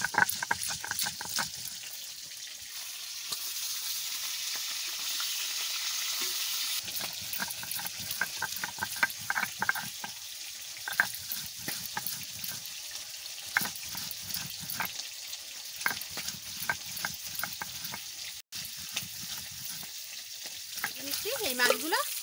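Bangda fish pieces frying in a pan, a dense continuous sizzle and crackle up close, broken by a few clatters and scrapes.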